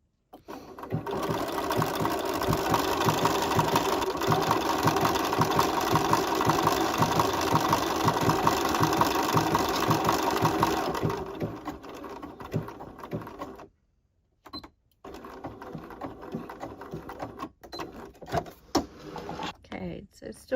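A sewing machine stitches a decorated gift card holder in a fast steady close whir that stops near the middle, followed by quieter handling sounds and a voice speaking.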